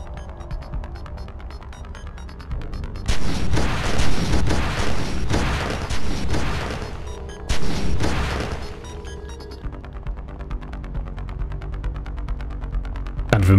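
Gunfire and booming blasts in the shooter video game Oni, dense and loud in two bursts over a steady humming game background, with no talk.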